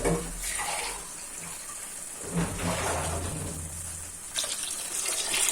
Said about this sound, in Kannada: ಎರಡು ಲೋಟ ನೀರು ಸೇರಿಸ್ಕೊಂಡಿದ್ದೀನಿ